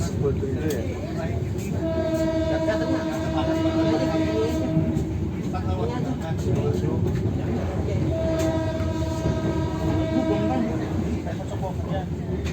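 A KLB parade livery train passes Gedangan station, a loud steady rumble of rail cars rolling close by while the horn sounds twice in long sustained blasts.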